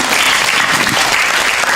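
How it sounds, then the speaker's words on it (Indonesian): An audience at an Islamic lecture breaks into dense, loud applause that carries on steadily throughout, with a faint murmur of the crowd beneath it. "Tepuk tangan dulu."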